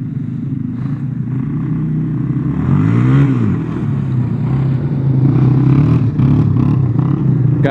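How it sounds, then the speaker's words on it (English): Two Yamaha quads, a Warrior 350 and a Moto-4 225, ride on a dirt track, their engines rumbling steadily close by with one rising rev swell midway and no talking. "Decided to bring the boys out to ride the quads today, just down the road"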